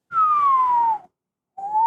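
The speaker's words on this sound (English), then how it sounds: "slide whistles" A slide whistle played up close, one long sliding tone that falls gradually in pitch, then a short pause before a second rising note begins, loud and alone with no talking.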